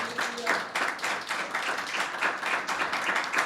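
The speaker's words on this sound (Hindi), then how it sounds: "यीशु मसीह के लिए जबरदस्त तालियां बजाएं।" A church congregation at a Sunday meeting claps together in a strong, fast, regular rhythm, the massed claps sounding steady and fairly close for the whole stretch.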